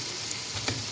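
Tomato masala for potato biryani fries in a pan with a steady close sizzle and a brief scrape of stirring, no voices.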